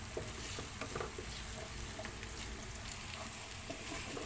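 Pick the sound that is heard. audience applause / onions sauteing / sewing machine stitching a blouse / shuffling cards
onions sauteing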